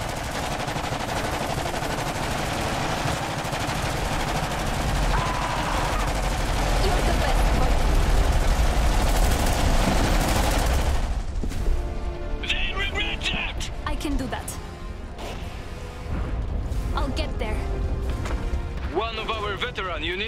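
Suppressive gunfire in the Iron Harvest 1920+ video game, a Polania campaign battle at Kolno: continuous loud rattling bursts with explosions and crashes throughout, under game voices.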